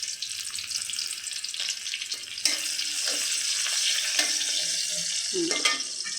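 Chopped onions hit hot oil in a pan with a bright, continuous sizzle, broken by a few clinks and stirring scrapes.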